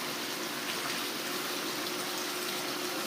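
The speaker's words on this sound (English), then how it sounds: "This overflow valve, the water just rises up to that level and then spills back off into the pond" Water from a pump's overflow valve spilling back into a garden pond: a faint, continuous splashing trickle with an even hiss and no pauses.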